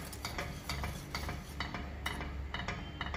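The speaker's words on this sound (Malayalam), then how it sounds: "നല്ലതുപോലെ ഇളക്കി യോജിപ്പിക്കുക." A spoon stirs chopped almonds and pistachios into a thick, sweet mixture of ripe plantain in a pan, giving a steady run of soft, rhythmic scrapes and clinks, close and fairly quiet.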